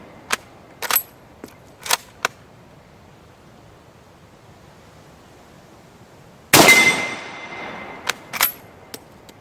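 A Kar98AZ bolt-action rifle fires one loud, sharp shot that rings out and decays, surrounded by several metallic clanks of the bolt being worked before and after, in a quiet outdoor setting with no talk.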